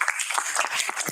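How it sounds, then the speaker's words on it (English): Audience applause for a swimming team at a school symposium, a dense wash of many hands clapping steadily and close for a short burst. "Applause for swimming team"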